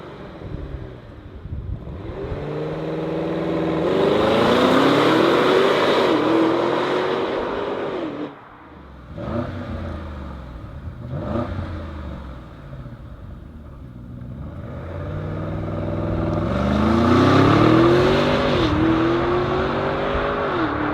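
Audi SQ8 4-liter V8 bi-turbo mild-hybrid engine revving loudly and accelerating in repeated surges, rising and falling pitch with a brief lull between runs, no talk.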